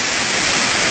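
Waterfall between Yukarı Balka and Çaktar, heard as a steady, dense broadband rush of falling water that fills the whole moment with no voices over it.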